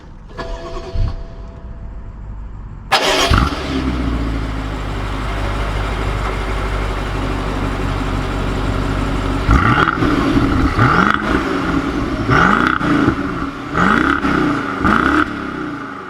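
A BMW 650i cranks and fires at about three seconds, settling into a steady idle, then gives a string of sharp throttle blips and revs that rise and fall repeatedly toward the end, loud and close with no talking.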